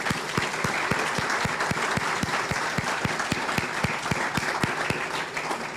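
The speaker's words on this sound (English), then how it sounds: "Let's give them a round of applause, please." Sustained applause from a ceremony audience at the Schofield Generating Station commemoration, a dense even wash of many hands with some sharp individual claps standing out throughout.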